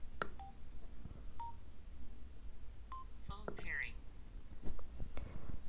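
A Cardo Packtalk Edge motorcycle intercom gives short electronic beeps and a rising tone sequence while a second phone pairs, with quiet speech in the background.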